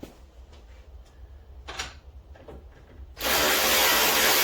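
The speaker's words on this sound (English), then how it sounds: "So now here I'm going to tighten them down." Bolts on a front hub bearing being tightened during a front suspension replacement, with faint ratcheting and clicking followed by a sudden loud, sustained whirring burst from a power tool close by.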